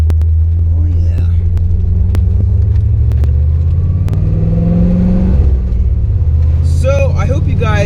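A C4 Corvette's exhaust rumbles steadily while driving, a loud low drone that swells briefly as it accelerates, with faint voice sounds over it.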